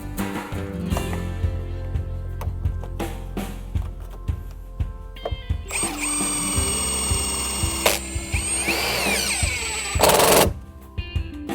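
Power drill driving screws to install brackets for the bottom rail of a vinyl composite straight rail kit, short whirring bursts amid handling clatter and a louder sustained drill run toward the end.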